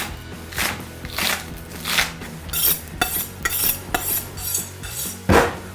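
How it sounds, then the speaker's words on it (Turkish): A knife cuts ingredients in half on a board in a Siemens oven trança recipe, a series of about nine sharp chopping strikes in uneven rhythm, close and clear with no talk. "Bunları ilk önce şöyle bir ortadan ikiye kesiyoruz güzelce"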